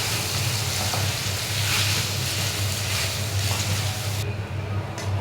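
Salted country duck meat is stir-fried in a pan until its fat renders, a continuous close sizzle with scraping stir sounds and a low steady hum beneath.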